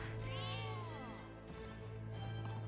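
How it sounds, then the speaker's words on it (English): Cat in the video game Metaphor: ReFantazio gives a drawn-out meow over a steady low music hum, followed by a few faint short sounds. "It is the same kitty."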